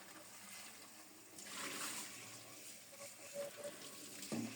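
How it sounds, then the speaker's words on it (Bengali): Fish fillets are rinsed by hand in a bowl under running water, a soft steady trickle and faint splashing heard close but quietly, with no voice. "এভাবে বারবার কষলিয়ে কষলিয়ে ভালো করে জল দিয়ে ধুয়ে নেব।"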